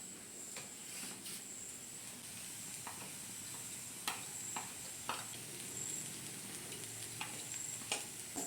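Spices, including coriander powder, sizzle steadily in a hot pan, with occasional scraping and stirring clicks; no voices.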